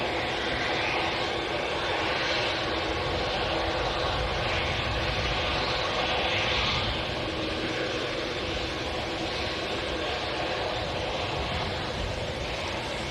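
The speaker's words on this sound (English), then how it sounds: "We're going to have back-to-back Dreamliner departures here." A TUI Boeing Dreamliner departs at Manchester Airport, its jet engines producing a loud, sustained broadband roar that holds steady throughout without any talk.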